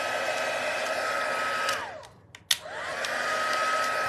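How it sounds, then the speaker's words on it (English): Heat tool on its high setting for embossing vellum, a steady loud blowing whoosh that is switched off briefly and back on, with a clicking in the gap, and no talk. "put it on the low setting, not on the high setting. It will take longer, but it means your vellum will not burn or buckle. So you hear the difference? That's high."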